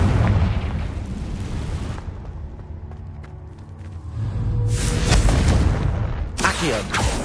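Confringo blasting spell explosions in a Harry Potter game: a loud booming burst at the start, a quieter lull, then further heavy blasts and rumbling bursts near the end.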